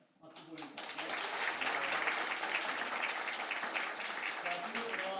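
Church congregation applauding students during a Korean thanksgiving worship service, starting with a few scattered claps and quickly building into sustained, full applause from many people, with some voices faintly underneath.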